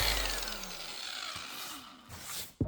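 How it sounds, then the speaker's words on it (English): A DA polisher fitted with a foam backing pad and 600 and 320 sanding discs sands paint on a snowmobile, a steady close whirring buzz with slight shifts in pitch and a sharp knock at the end. "we grabbed the DA polisher, put a foam backing pad on it, and grabbed some 600 and 320 sanding discs"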